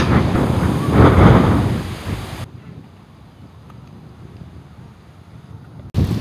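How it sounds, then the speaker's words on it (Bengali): Cool wind blowing by the Karnaphuli river, a loud gusty rush against the microphone that drops to a quieter breeze before buffeting again. "শীতল বাতাস"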